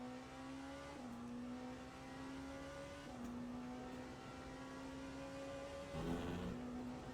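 Hypercar engine at a race start in the Le Mans Ultimate sim racing game, a faint steady onboard engine tone holding revs with a few sharp gear-change drops in pitch, alone without talk.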